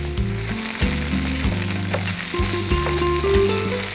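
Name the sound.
masala ragi appalu frying in pan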